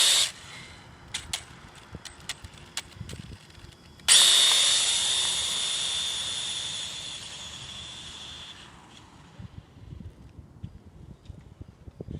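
A small RC Honda drag car motor on a test pull in cold weather lets out a sudden high-pitched whine that starts loud and fades over several seconds, after quieter ticking and clicks.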